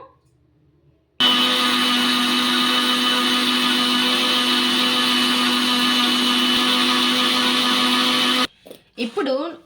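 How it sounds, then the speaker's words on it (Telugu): A mixer grinder grinds ingredients to a fine powder, roaring steadily for about seven seconds after a quiet start, then cuts off abruptly, followed by brief speech. "ఇప్పుడు పౌడర్ లాగా మనం మెత్తగా మిక్సీ అయితే పట్టేసుకుందాము"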